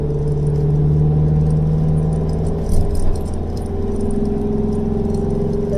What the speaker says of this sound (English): I do apologise for all of the rattling that's going on, but this is a Swift Besser car.